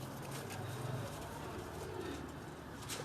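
Cooing of a rooftop pigeon at a pigeon club in Gujranwala, a soft low repeated coo running steadily for a few seconds amid faint background noise.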